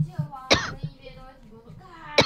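A game character coughs after healing during an online shooter match: two sharp, close coughing bursts about two seconds apart, heard amid players' chatter.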